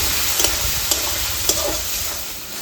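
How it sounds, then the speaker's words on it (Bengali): Spice paste of ground cumin, coriander powder and turmeric sizzles in a pan with a little water, a steady broadband hiss broken by three or four sharp stirring scrapes and clinks, close and fairly loud with no talking. "একটু জল দিয়ে আমি মশলাটাকে ভালো করে কষিয়ে নেব।"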